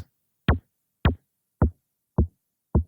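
Five punchy, deep kick drum hits land at a steady, even pace, each a short booming thud with a quick pitch drop, alone in silence.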